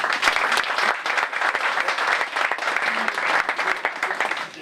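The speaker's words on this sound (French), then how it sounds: "Je pense qu'on peut aussi les applaudir." A crowd at a football club's general assembly applauds steadily, with dense, even clapping close by that holds for several seconds without a voice over it.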